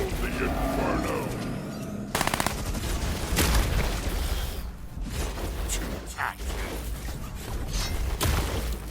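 Ion cannons fire in the real-time strategy game Stormgate, sharp bursts and crackling blasts stacking into a dense barrage of weapon fire, with a sudden loud onset partway through and sustained battle noise under a talking voice.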